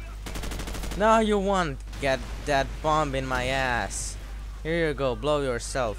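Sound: machine gun fire in video game Call of Duty 4

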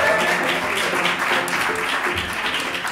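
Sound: audience applause

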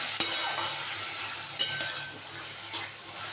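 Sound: fried potatoes stirred into cooking greens in a pan

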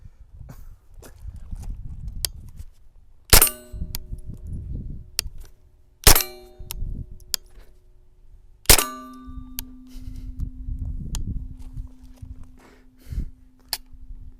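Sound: Derya Arms TM22 .22lr rifle shots clanging on metal target

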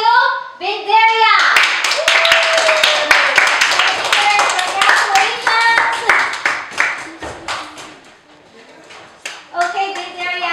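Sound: audience applause at a children's spelling bee

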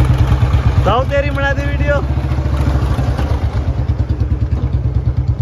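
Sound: Bullet motorcycle engine running after starting

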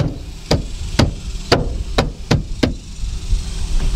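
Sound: hand pounding dash trim panel into place

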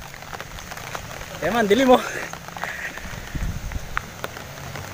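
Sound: heavy rain falling

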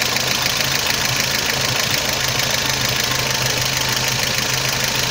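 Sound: car engine idling, revs dropping

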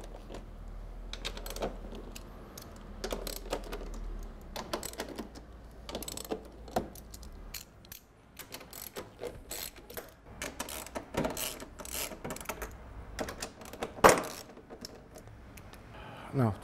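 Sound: removing screws and bolts from Vectrix scooter battery cover

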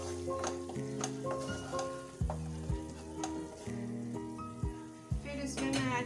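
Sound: stirring caraway seeds into frying onion paste

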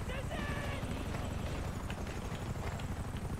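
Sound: police helicopter in video game GTA 5

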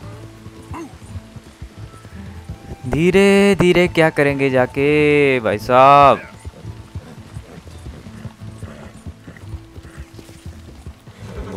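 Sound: horse galloping, hooves in video game Red Dead Redemption 2

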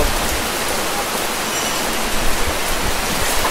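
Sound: heavy rain pouring

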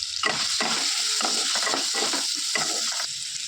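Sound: potatoes frying in oil with turmeric

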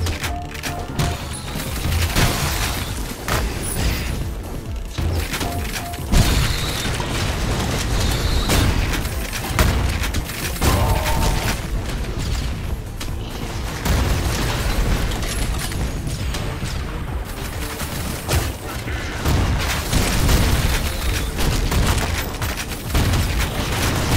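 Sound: grenade explosions in the video game Ion Fury

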